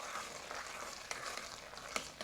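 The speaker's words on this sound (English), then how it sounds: "my hand is getting super tired by holding on to these chopsticks and mixing in one direction" Chicken dumpling filling is stirred with chopsticks in one direction, making a faint, steady wet churning with a few soft clicks against the bowl.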